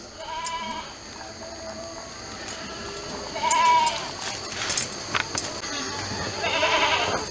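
Hungry pigs on a rural Nepali homestead squeal in a series of short, high, wavering cries at moderate distance, rising and falling over a soft outdoor background.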